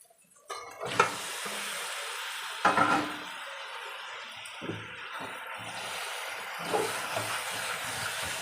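Chicken pieces hit a hot pan and sizzle with a steady, close frying hiss, broken by a few louder bursts of spattering and stirring, with no talking.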